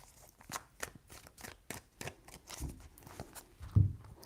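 A deck of tarot cards is shuffled by hand, a quiet run of crisp riffling flicks in irregular rhythm, heard close with no talking over it.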